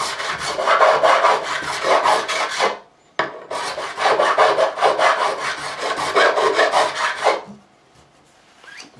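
A metal file rasps along the fret bevels of a Breedlove Artist OM guitar in two long bursts of rapid back-and-forth strokes, close and crisp, with a short pause between them.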